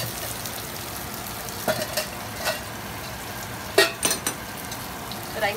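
Fish frying in a pan in a Koli-style kitchen, a continuous moderate sizzle with scattered utensil clinks and scrapes.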